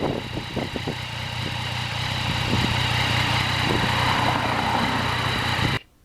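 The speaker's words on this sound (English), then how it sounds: "I'm trying to wear that quick shifter out every chance I get." A 2020 Yamaha MT-09 motorcycle rides on salty roads, its engine droning steadily with wind rush and a few quick pitch changes from gear shifts, cutting off at the end.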